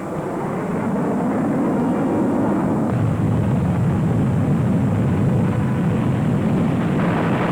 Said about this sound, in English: In the late stages of the European War came the Buzz Bomb, a 400-mile-an-hour pilotless plane